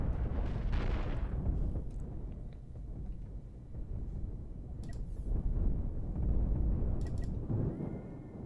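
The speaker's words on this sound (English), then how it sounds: "a lot of cannon rounds traveling across here." Cannon rounds firing in the space-ship building video game Cosmoteer: dense booming and rumbling bursts with sharp metallic cracks, continuous and fairly loud, no speech.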